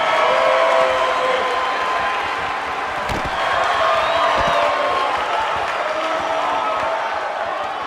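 Sold-out arena crowd in WWE 2K19 roaring and cheering steadily, a loud continuous wash of voices and applause that stays full for the whole stretch.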